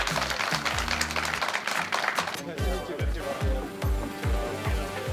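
Crowd applause welcoming rally driver Kalle Rovanperä on his arrival at a Toyota event, a burst of scattered clapping at the start that gives way to someone talking over the fading claps.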